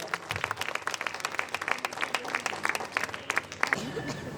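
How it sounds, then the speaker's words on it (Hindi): Applause at a Christmas gathering and annual program as the bishop is welcomed, many hands clapping in a lively, uneven patter with crowd voices mixed in, then tapering off near the end. "जोरदार तालियों के साथ स्वागत कीजिए इनका।"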